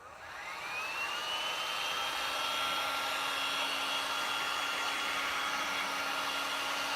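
A hair dryer blows on wet paint on an apothecary box, spinning up within a second into a loud continuous whooshing whine that holds steady.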